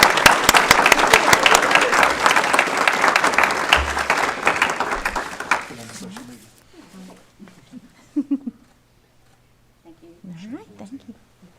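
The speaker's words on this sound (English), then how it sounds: "Please give her a round of applause." Audience members at a school board meeting clap for an award recipient, loud and dense for about five seconds before fading out, followed by quiet talking in the room.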